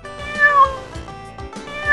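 A cat meows in two or three drawn-out, tonal cries, close and clear, with brief pauses between them and no talking.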